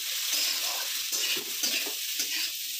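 Onions sizzle in a hot pan, with bursts of stirring scrapes over a constant frying hiss; close and moderately loud, no voices.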